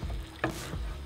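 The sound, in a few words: onions and tomato sauce cooking in a pan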